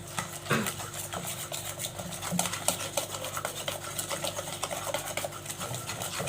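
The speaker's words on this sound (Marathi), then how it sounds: "अशा पद्धतीने छान यायला असं फेटून घ्यायचं आहे एक ते दोन मिनटापर्यंत" Gram flour batter with water is whisked for papad bhaji, a steady, fast, close rhythm of rapid utensil beats against the bowl that carries on without a break and with no speech.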